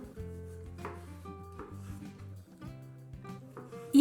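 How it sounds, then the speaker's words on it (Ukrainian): A knife chops a large tomato on a board in a few separate cutting strokes, close and fairly quiet, with a louder knock at the end. "Також нарізаємо на великий помідор."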